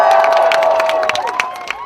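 Large crowd of thousands gathered outside St James's Palace for the proclamation of a new king, a loud steady mass of cheering and shouting voices close by, with scattered higher children's cries rising above the roar.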